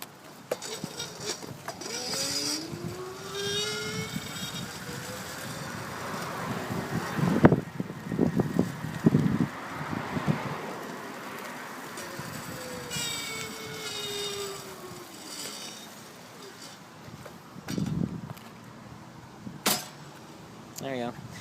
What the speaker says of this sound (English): it kind of whines when you're throttling it